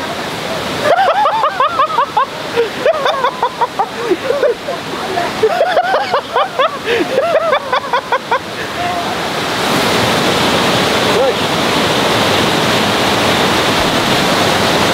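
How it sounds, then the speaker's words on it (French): Steady rain hisses down through a mountain forest in Algeria, growing denser and louder in the second half, with scattered high chirping calls over it early on. "Il y a la pluie qui est en train de tomber dans la forêt"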